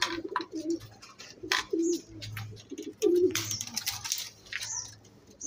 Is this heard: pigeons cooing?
yes